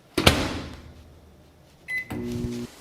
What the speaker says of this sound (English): I'm going to stick it in the microwave for 3 minutes